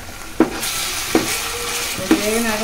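Ginger paste frying in a pan while a spoon stirs it, giving a soft continuous sizzle broken by three sharp scraping knocks spaced roughly evenly apart.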